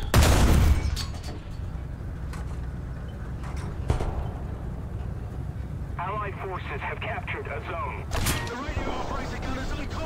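Gunfire in a shooting video game, opening with a loud blast and followed by scattered sharp shots at varying distances over a steady background rumble, with another burst near the end.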